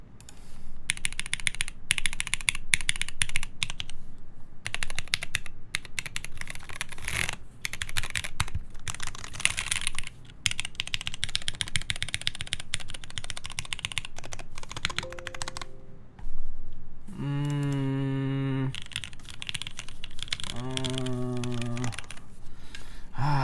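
Rapid, close, clattery keystrokes come from a faulty computer keyboard whose E and R keys are shorting during a keyboard build. The clicking runs steadily for about fifteen seconds, then gives way to a few loud, tonal vocal bursts near the end.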